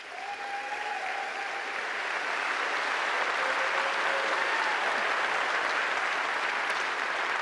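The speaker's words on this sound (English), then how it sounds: "let's give our new cabinet ministers, parliamentary secretaries, and our entire UCP caucus a warm round of applause" Sustained audience applause fills a political party annual general meeting hall, a dense steady wash of clapping that swells slightly and holds loud throughout, with no voice on top.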